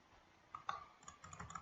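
Several faint computer mouse clicks sound in a quick, uneven cluster, soft and close in an otherwise quiet room.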